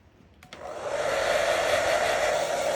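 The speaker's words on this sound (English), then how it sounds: "All right, back to the hairdryer." Hair dryer switched on to dry paint on a gel plate, a click followed by the motor spinning up into a loud, steady blowing whoosh that holds to the end.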